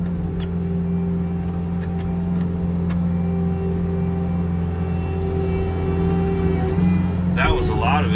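An excavator engine runs steadily while moving dirt for a patio, a loud, constant droning hum throughout, with a brief clatter near the end.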